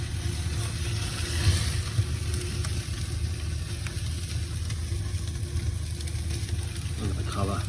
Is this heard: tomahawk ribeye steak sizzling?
yes